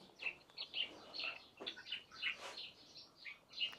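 Faint, high chirps and tweets from small birds come in quick, scattered bursts, fairly distant, with no talking.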